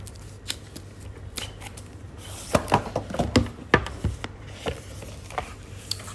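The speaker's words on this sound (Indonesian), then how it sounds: "Coba kita unboxing ya." Packaging for Sudio B1 bone conduction headphones is opened close up, with faint crinkles, taps and scraping snips of cardboard and plastic clustered in a busier stretch midway, in a quiet room.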